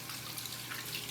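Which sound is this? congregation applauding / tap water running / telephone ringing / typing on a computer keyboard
tap water running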